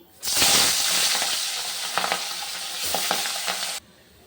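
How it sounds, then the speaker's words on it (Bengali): Pabda fish dropped into hot oil bursts into loud, close sizzling that holds steady for about three and a half seconds with a few crackles and pops, then cuts off abruptly. "তেল গরম হয়ে গেছে মাছ দেবো"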